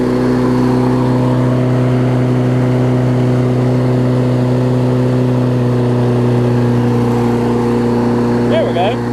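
A Yard Man OHV big-wheel push mower engine idles slightly fast, giving a loud, steady, even hum with no change in pitch throughout.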